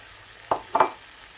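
Vermicelli dropped into a hot pan for a chicken and vegetable pilaf gives two brief sizzling bursts, close and moderately loud, then fades back to a quiet background.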